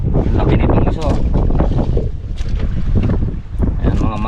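Strong wind buffets a boat at sea, a loud continuous roar with gusting surges and microphone wind noise throughout, while someone speaks over it.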